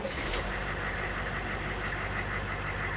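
A 1985 AM General Humvee engine runs right after a key start, a steady, close, rumbling idle that holds throughout without breaks.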